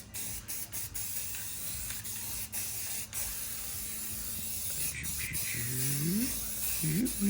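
Primer paint sprayed from an aerosol can onto a repaired car cowl on a Firebird or Camaro, a steady close hiss running nearly throughout with brief pauses and a few faint clicks and knocks near the end.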